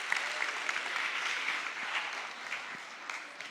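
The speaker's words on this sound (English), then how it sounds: "Give her a huge round of applause." An AI Summit audience gives a steady round of applause as a speaker comes on, many hands clapping evenly at moderate volume throughout.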